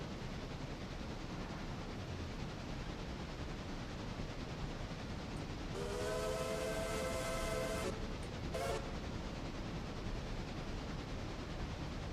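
A steam locomotive whistle in the railroad game Railroader sounds a long, loud chord for about two seconds, then gives a second short toot, over a constant rushing background.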